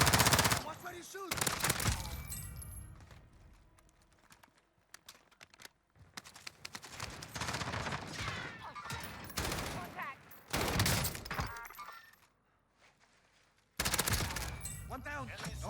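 Rapid gunfire bursts in the shooter video game Warzone, repeated loud volleys cutting in and out across the clip, with people talking between and under the shots.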